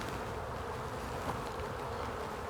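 Honey bees buzz around an open hive frame held up to the sun during a hive inspection, a dense, continuous droning hum close by with no voices.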